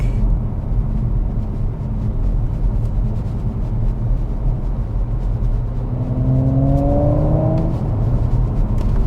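An Audi RS4 Avant B9 in dynamic mode cruises with a steady low rumble, then its engine note rises near the end as it accelerates, growing a clear climbing tone over road noise.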